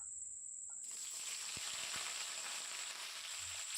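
Thin round slices of bitter gourd frying in oil in a pan for a tamarind gravy, with a faint, steady hiss that starts after a brief quiet moment and a couple of soft knocks of a utensil. No one talks.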